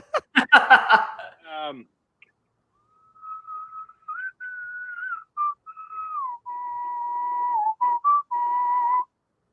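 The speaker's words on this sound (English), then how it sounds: "that is some expert whistling" A person whistles a wavering, sustained melody alone after a short burst of laughter, the tune sliding between steady held notes with brief pauses, close and clear.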